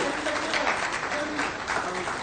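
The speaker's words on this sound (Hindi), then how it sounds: "जोरदार तालियां होती रहनी चाहिए" Steady applause fills a hall at a government ceremony where newly selected candidates receive appointment letters, sounding as a dense, even wash of clapping from a crowd with no pauses.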